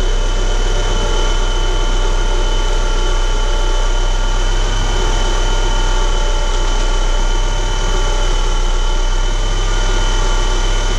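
The engine of a 1990 Mitsubishi Mighty Max pickup truck, just fitted with a replacement alternator, runs at a steady idle, a loud, close and constant drone with low rumble and vibration and no voices over it.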